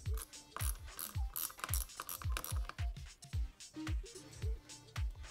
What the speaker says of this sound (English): We're gonna begin by undoing the pivot bolt nut from the bottom.